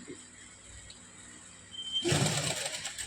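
Sewing machine stitching a fabric strip near the edge while tailoring a garment, a loud burst of mechanical whirring starting after a quiet stretch and running to the end.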